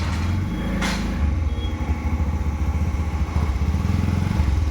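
Bajaj BS6 motorcycle on a test ride after a full service, its engine a steady, loud rumble with a rhythmic throbbing that picks up after the first second, heard alone without talk.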